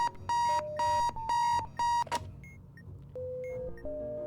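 An alarm clock in the game Keep Talking and Nobody Explodes rings in four quick, loud bursts of electronic beeping, followed by quieter scattered tones.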